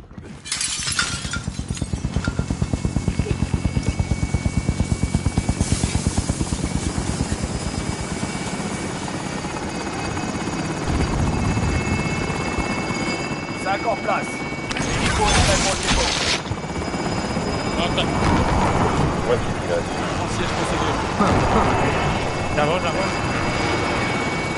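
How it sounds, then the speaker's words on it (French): Drop helicopter approaching in a video game: a loud, steady rotor thump and engine whine runs throughout, with crashing and shattering bursts and overlapping voices of players and game radio chatter. "Hélico de dépôt en approche."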